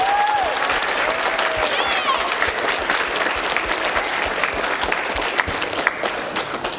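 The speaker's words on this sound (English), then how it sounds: "would you please give your families a round of applause and tell them thank you for coming" Families in the audience at an intermediate school choir concert applaud with loud, continuous clapping for several seconds, a few voices and whistles rising briefly over it.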